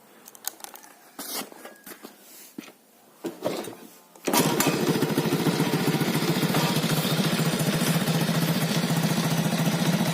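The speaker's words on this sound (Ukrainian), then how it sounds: "Працює двигун сам дуже гарно." A Delta Sputnik moped engine idles steadily with a rapid, buzzy rattle from its exhaust pipe guard after a few seconds of clicks and handling noises, loud and close.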